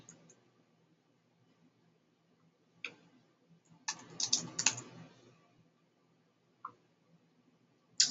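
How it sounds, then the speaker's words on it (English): Sparse keystrokes on a computer keyboard, a few isolated clicks followed by a short quick burst of typing near the middle, then another lone tap and a final click, all quiet and close in an otherwise still room. "tap the S key on your keyboard and begin typing the leader's name"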